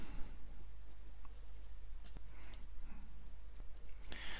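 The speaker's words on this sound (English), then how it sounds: "Now let me start to type in that title." Quiet, close keyboard typing as a slide title is entered in PowerPoint 2013, with soft irregular key clicks over a faint steady hum.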